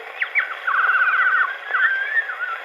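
A person whistles an imitation of birds warbling, a quick trilling run followed by sliding, wavering tones, clear and close.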